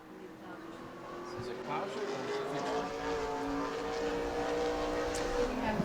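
A Super Late Model race car engine drones steadily at high revs during a qualifying lap at New Smyrna, growing slightly louder over a few seconds, with a commentator's voice talking over it.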